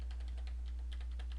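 Computer keyboard keys are pressed in a quick, irregular run of light clicks, close and clear over a steady low electrical hum.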